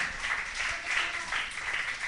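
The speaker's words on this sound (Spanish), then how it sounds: "Dale un aplauso al que vive para siempre." A church congregation applauding, a dense continuous wash of many hands clapping at an even level throughout, heard from within the crowd.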